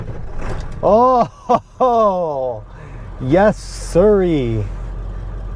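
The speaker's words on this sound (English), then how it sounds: "That is the sound of a truck, not a vacuum cleaner." A Ford 7.3 Powerstroke diesel truck engine idles with a steady, low, continuous rumble, running beneath a man's excited, animated talk.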